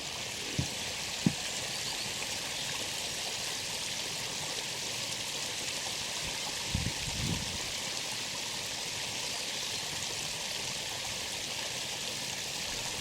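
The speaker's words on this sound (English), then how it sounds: "Water runs downwards to the canal level." Water flows down a concrete channel from a reservoir toward a canal, making a steady, even rushing hiss, with a few faint knocks and bumps close by.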